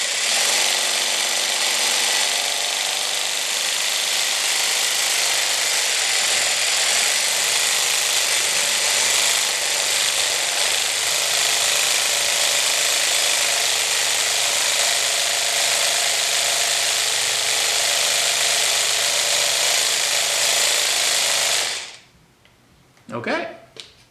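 Pigment mixer churns colorant in a loud, steady mechanical rattle with a grinding, ratchet-like texture that runs unbroken for about twenty seconds before cutting off abruptly, followed by a few faint knocks.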